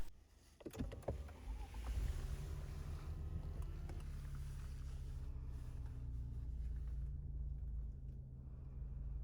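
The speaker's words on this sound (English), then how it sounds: "Turn on the small unit and start the engine." A 2019 Lexus RX300 engine cranks with a few sharp clicks, catches, then settles into a low, steady idle hum that continues to the end.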